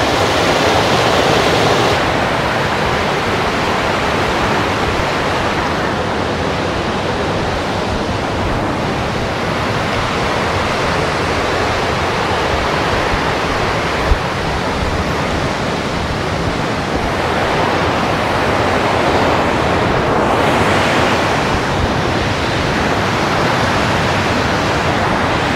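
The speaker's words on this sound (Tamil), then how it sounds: "தண்ணி சவுண்டு." Rushing water of the Chinnar river flows steadily and loudly in a continuous broadband wash that never pauses, with no voices heard.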